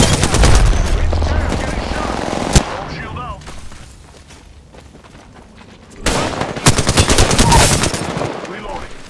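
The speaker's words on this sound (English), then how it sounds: "The enemies are shooting at me" Rapid automatic gunfire rattles close and loud in an Apex Legends Season 7 battle royale match, played as Octane. Sustained bursts stop for a few seconds while a quieter exchange continues, then heavy firing resumes.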